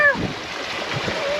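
Sea water splashing over a sailboat on an ocean crossing, a brief close wash of spray and gurgling water, with a voice briefly present.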